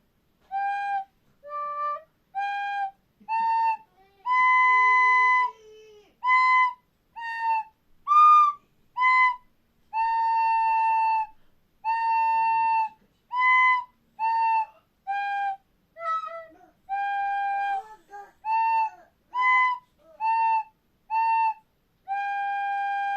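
A simple flute-like wind pipe plays a slow melody of separate, clear tones, each note briefly breathed with short gaps between, heard alone and close.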